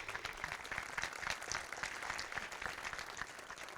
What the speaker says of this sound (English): I think that deserves a round of applause from the Nuxt brothers because that's just brilliant.